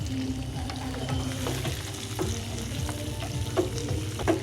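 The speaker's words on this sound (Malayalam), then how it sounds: "നമുക്കിനി ചെറിയ ഉള്ളി ഇട്ട് കൊടുക്കാം അതിൻ്റെ കൂടെ തന്നെ കുറച്ച് മാംഗോ ഇട്ട് കൊടുക്കാം" Shallots and mango pieces frying in a pan for a fish mango curry: a continuous close crackling sizzle with a low hum underneath and repeated light scrapes as the mixture is stirred.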